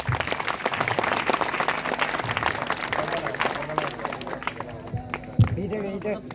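An audience applauds at a stage event about Babasaheb presenting the constitution. The clapping is dense and sustained with some crowd voices mixed in, then thins out and fades toward the end.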